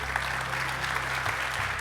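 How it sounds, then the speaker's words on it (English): An audience applauds Antoine Arnault, LVMH board member, with soft, even clapping throughout, heard at a distance over a low electrical hum. "Round of applause for Antoine Arnault."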